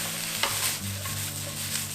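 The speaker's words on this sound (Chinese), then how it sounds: "倒入大白菜、 尾洋葱， 然后呢，一样就是大火把它爆炒，把它炒软" Napa cabbage and onion stir-fried in a wok over high heat, a steady close sizzle with scraping stirs and a brief clatter, no voices.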